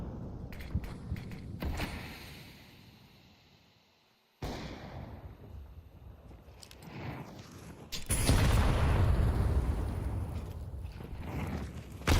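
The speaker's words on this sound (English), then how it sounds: "Good nade right there" A grenade goes off in a shooter video game during a collegiate esports match: a sudden loud, broadband blast late in the clip gives way to a sustained rumble, with scattered sharp game effects before it.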